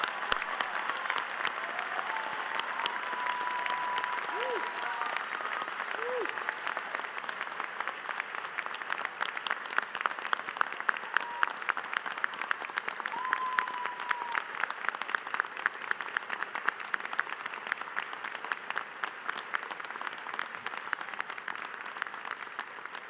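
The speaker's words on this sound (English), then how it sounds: "please join me in a round of applause welcoming the Army's newest 2nd Lieutenant" At a winter university graduation ceremony, an audience applauds the Army's newest 2nd Lieutenant after the oath, a long, even wave of clapping from a large crowd with occasional faint whistles and voices.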